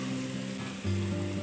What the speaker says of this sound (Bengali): পেঁপেটা দিয়ে আমি এখানে আর একটু ভেজে নেব